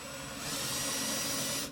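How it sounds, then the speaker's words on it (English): Power drill boring a countersink hole in black walnut for a shotgun case, a steady continuous whir that holds at the same pitch for the whole stretch, close up with no talking. "But I've got a drill bit here marked for the depth."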